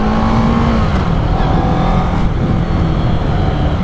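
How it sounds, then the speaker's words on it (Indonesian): A 2012 Kawasaki ER-6n with a 650cc two-cylinder engine runs close by with a steady, loud, continuous engine roar that shifts pitch slightly early on, holding level throughout with no talking. "secara suara mesin mirip kayak 250 cc 2 silinder"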